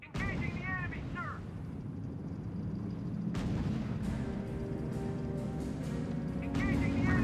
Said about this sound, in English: Our units are under fire.